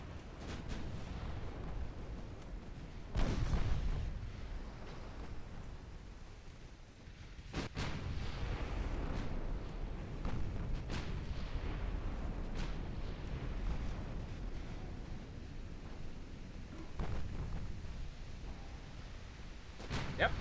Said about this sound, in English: Yep, torpedo detonation.